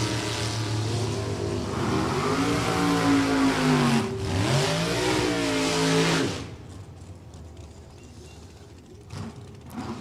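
A small-block Chevrolet drag racing car with upswept headers roars loudly at full throttle, its engine note rising through gear changes before cutting off abruptly and fading to quiet track ambience.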